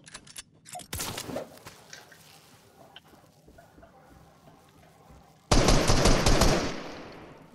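Gunfire in Fortnite, a loud burst of rapid shots near the start, then quieter scattered pops, then a second long loud burst of fast automatic fire close by that fades at the end.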